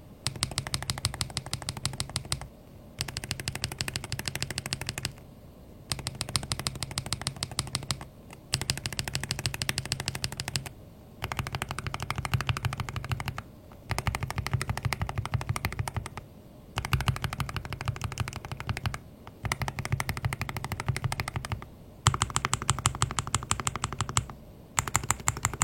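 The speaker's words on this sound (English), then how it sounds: "We looped a Leica V2 switch and a Gateron Jade switch to provide a sound comparison for the TTC Magneto switches." Mechanical keyboard switches typed in looped bursts, comparing Leica V2, Gateron Jade and TTC Magneto switches: dense, rapid clacking in runs of a few seconds separated by brief pauses, close and steady, with no voices.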